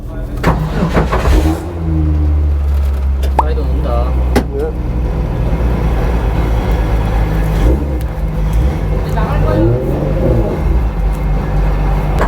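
A rear-wheel-drive GT1 race car starting up for a Super Race outing, with a short cranking burst followed by a loud, steady idle rumble and occasional revs, while someone speaks over it at times.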